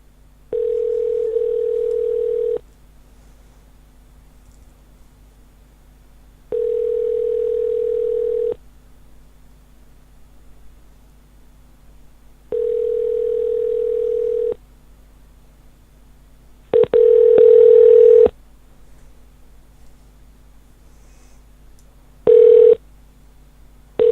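A telephone line gives repeated tones before a call to a tech support scammer connects: three even two-second beeps with pauses between them, then a few shorter, louder bursts, all clear and alone with no talking.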